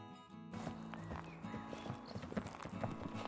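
Several horses walk along a forest trail used for riding, hooves clip-clopping in a steady uneven rhythm at moderate distance, with a brief whinny and quiet ambient background.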